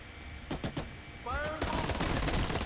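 Gunfire in the video game Special Forces: Team X: a quick burst of three or four shots, then a short electronic tone and a loud sustained rattle of rapid fire.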